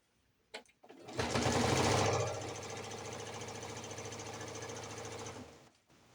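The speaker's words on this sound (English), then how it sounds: "I should probably not sew that fast with my walking foot on." A sewing machine with a walking foot stitching quilt binding, a steady fast mechanical whir running for several seconds after a brief click, close and fairly quiet with no talk.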